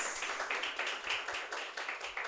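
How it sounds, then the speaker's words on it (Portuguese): A church congregation claps in a steady, quick rhythm, many hands beating together in unison at a moderate distance. "Aplaude a palavra de Deus."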